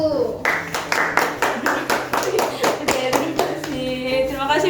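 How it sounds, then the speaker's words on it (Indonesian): A classroom group of students claps for a fellow student group, a dense steady applause of many hands lasting several seconds and fading toward the end as voices begin to talk over it. "silakan berikan aplaus untuk kelompok abu-abu"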